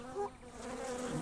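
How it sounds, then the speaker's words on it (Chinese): A worker honeybee buzzes close and faint, a short steady drone with a brief swell near the start. "这只工蜂发现外面的花朵了，它用舞蹈来告诉同伴们花朵的方向和距离。"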